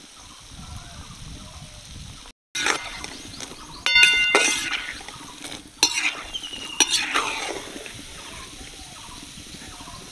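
Madan bhaja, fried dough snacks made from flour, sizzle steadily in a pan while a utensil scrapes and clinks against the metal in bursts, with a short silent gap near the start.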